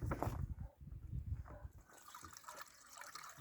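Water pouring and gurgling into a sprayer tank, a steady splashing flow that softens and thins toward the end, heard close with no talking.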